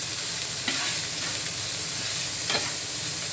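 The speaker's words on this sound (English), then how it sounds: "Be careful, onions sizzle a lot" Onions sizzle and crackle steadily in hot oil in a pan while being stirred, a continuous broadband frying hiss with a few sharper pops and scraping stir strokes, close and alone with no talk.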